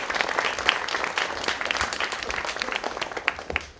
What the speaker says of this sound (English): Just give me a round of applause, please.